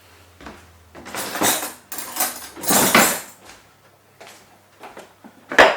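A kitchen drawer rattles open and shut as a knife is taken out, with loud clattering bursts of cutlery shifting against metal, close by, followed by a few lighter clinks and a final sharp knock.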